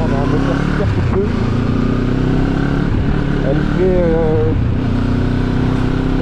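A QJMotor SRT 700 motorcycle engine runs with a steady, loud rumble throughout, while someone talks over it.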